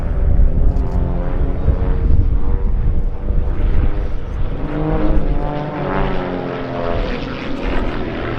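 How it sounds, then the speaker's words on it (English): Raven display aircraft flying a barrel roll in echelon formation at the Duxford summer air show, a loud sustained propeller engine drone that swells and slowly shifts in pitch as the planes pass, with no voices. "Ravens 4 and 5 once again in towards us in an echelon formation into that barrel roll"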